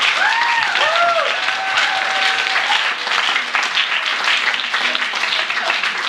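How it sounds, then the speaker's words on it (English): Loud, close crowd applause at a Spoken Word London anti-hate anniversary event, sustained clapping with cheers and whoops mixed in throughout. "Please can we get another round of applause?"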